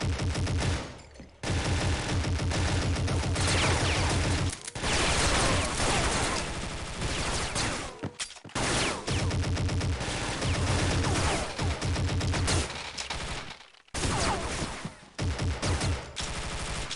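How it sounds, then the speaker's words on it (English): Pistols fired separately in The Specialists, a Half-Life mod, crack out as dense, loud bursts of gunfire with several brief gaps, close and dominant, with no talking. "I'm gonna proceed to fire my pistols separately."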